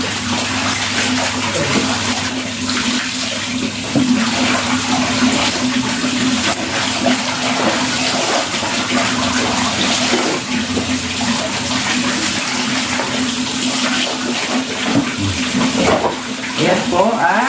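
Water runs loudly and steadily for bathing, like a tap or stream pouring into a basin, in a hot tropical home in the Philippines. It continues without pause, with only faint hints of a voice beneath.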